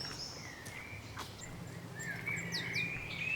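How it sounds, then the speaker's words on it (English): Small birds chirp and sing in short tweeting phrases around an outdoor walk past tree stumps, with several calls overlapping at moderate distance over a steady low background hum. "The birds are singing."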